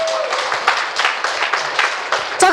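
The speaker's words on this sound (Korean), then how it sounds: "김미선 사장님에서 박수 한번 해주세요" A seminar audience applauds a woman during a Mannatech business presentation, with bursts of clapping and a voice speaking over it.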